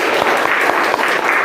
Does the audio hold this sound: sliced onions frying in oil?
no